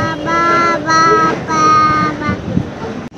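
A train passes close by near a bridge, with loud, sustained tonal whining and rumbling in swelling bursts that fade toward the end.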